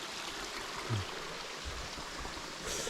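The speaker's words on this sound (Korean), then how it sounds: "그래서 여기 개울 물소리, 물이 깨끗해요." A clear mountain stream on Cheonggyesan flows in a soft continuous rush and trickle, close by and steady throughout, with a faint low thump at one point.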